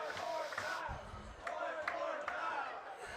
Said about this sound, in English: Crowd chanting for one more throw over to first.